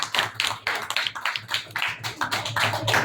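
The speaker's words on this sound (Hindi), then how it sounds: "इसके लिए जबरदस्त ताली बजाते हैं" Audience clapping at an RCM business meeting in Lucknow: uneven, rhythmic bursts of hand claps from a modest group, fairly close and clear, with no talking over them.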